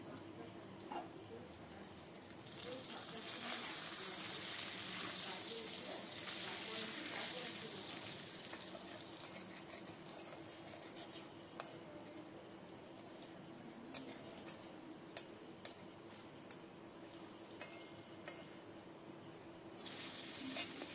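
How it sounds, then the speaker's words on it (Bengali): Cumin seeds, dried red chillies and a bay leaf sizzle steadily in hot oil, a dense continuous crackle that swells after the first couple of seconds and holds loud and close with scattered pops until near the end. "এবার আমি 1 চামচ মতো জিরে দিয়ে দিলাম ফোড়নে, আর 4-5টা শুকনো লঙ্কা দেবো, আর তেজপাতা দিয়ে দিলাম।"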